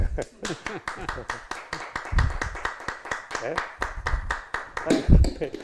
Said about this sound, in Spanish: eso se merece un aplauso